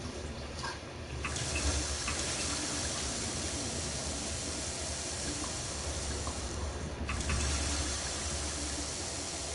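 Water runs steadily in the video game Prey, a constant hissing stream with brief faint clicks near the start and again later, loud and close with no talk.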